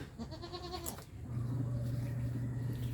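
A goat on a small farm gives a steady, nasal bleat that starts about a second in and holds to the end, close and fairly loud after a brief shorter call.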